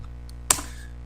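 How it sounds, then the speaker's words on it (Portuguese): A single keystroke on a computer keyboard while entering values into a LaTeX document, one crisp close click over a quiet background hum. "e vou digitar o resto do valor da expressão, 46"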